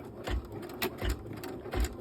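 Embroidery machine triple-stitching the backing, lining and front of a fully lined zipper purse, giving a steady mechanical whir with three heavier thumping pulses roughly every three quarters of a second.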